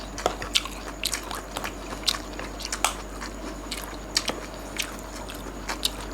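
Someone eats spicy shrimp close up, with soft, irregular bites and squishy chewing sounds repeating every second or so over a faint steady hum.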